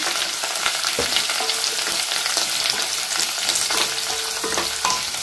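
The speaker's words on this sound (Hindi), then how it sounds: "अब हम इसके अंदर डालेंगे करी पत्ता अदरक मिर्च और कैप्सिकम अब अच्छे से हम मिक्स कर लेंगे" Curry leaves, ginger, chillies and capsicum stirred in a hot pan for sago khichdi, giving a steady close sizzle with a few scraping spoon strokes and light clatter throughout.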